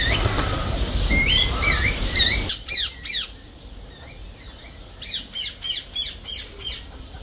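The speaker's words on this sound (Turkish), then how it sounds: "Bayağı güzel kuşlar var burada." Birds squawking with a burst of flapping wings at Belgrade Zoo, loud and close at first, then a series of sharp repeated calls in a quieter enclosure.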